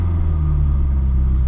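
A 1974 VAZ 2103 Lada rolls along in second gear, its engine a steady low rumble heard from inside the cabin, loud and even with no talk over it.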